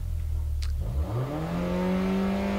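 A 2018 Mini Cooper S race car engine revs and climbs steadily in pitch before a race start at Oulton Park, a loud continuous whine rising over the span with no talking.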